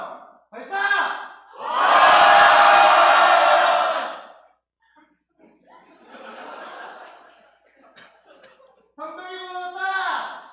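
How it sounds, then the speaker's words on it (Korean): Crowd shouting a loud battle cry together in a church retreat skit, a big collective roar followed by scattered laughter, softer voices and another rising group shout. "전방에 함성 발사!"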